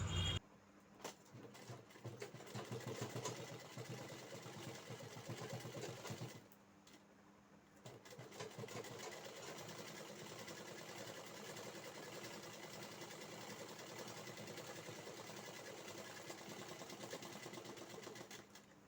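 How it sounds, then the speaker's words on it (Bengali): A sewing machine stitches a hakoba fabric sleeve with a steady, close mechanical whir that pauses briefly partway through, then runs evenly to the end. "তো চলো আমি এইভাবে পুরোটা কিন্তু সেলাই করে নেব।"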